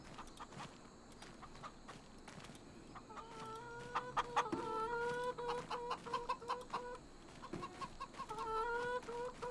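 Chickens cluck in the Farming Simulator 25 video game. The clucking starts faint, then builds into repeated close bursts, and soft footstep-like thuds sound underneath.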